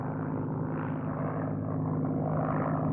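A World War II F6F Hellcat fighter's piston engine drones steadily with a low, even propeller hum that swells slightly, heard alone without talk.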